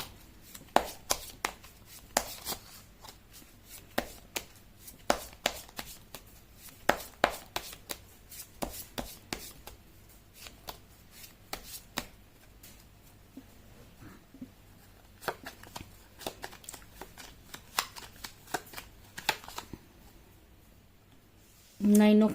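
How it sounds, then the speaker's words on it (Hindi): Tarot cards shuffled by hand at close range, a run of sharp, uneven riffling clicks and slaps with short pauses between bursts, ending with a louder rustle. "मैं कर लेती हूँ कार्ड की शफलिंग।"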